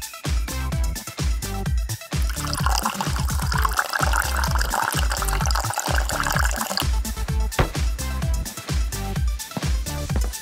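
Water pours from a vase in a hospital room, a steady close splashing and gurgling stream under rhythmic background music throughout.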